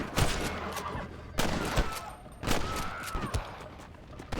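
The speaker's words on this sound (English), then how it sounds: "Stop shooting at me!" Gunshots ring out in Red Dead Redemption on PC, several sharp broadband cracks spaced irregularly across a few seconds over a steady game ambience, loud and close.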